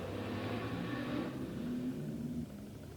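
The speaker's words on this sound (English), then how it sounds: "I think there was just like several motorcycles just driving by just now." Several motorcycles pass along a residential street, a faint low engine rumble that swells and then fades away as they move off, heard alone without speech.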